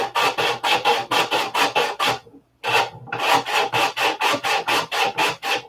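A Jim Lee spinner reliever rasps against the nose of a wooden piece, sanding in quick rhythmic strokes; about eight close, scratchy passes, a short pause, then another rapid run of strokes.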